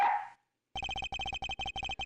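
A dog in the Ace Attorney Investigations video game gives a brief whimpering call, then after a pause a quick series of about a dozen short, synthetic-sounding yips in a steady rhythm, clear and close.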